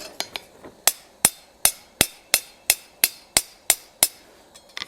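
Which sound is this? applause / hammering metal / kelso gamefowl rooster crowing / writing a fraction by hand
hammering metal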